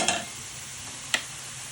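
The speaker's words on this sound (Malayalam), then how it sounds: "ഉള്ളി കടുക് വറുത്തത് അല്ലെങ്കിൽ താളിച്ചത് ഇങ്ങനെയായിട്ടാ." Onion and mustard seeds frying in hot oil while cooking a milk tapioca dish, a steady soft sizzle with a couple of sharp pops or stirring clinks near the start and again midway, no voices.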